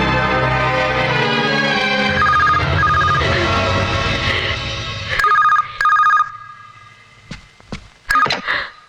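A telephone rings in bursts of electronic trilling, first over music and then alone in short repeated rings with gaps, close and loud.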